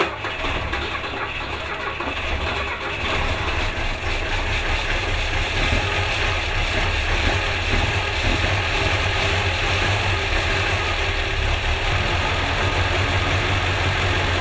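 A large aircraft engine being started and run on the ground, a loud continuous roar and rumble that holds steady throughout, close and dominant with no voices audible.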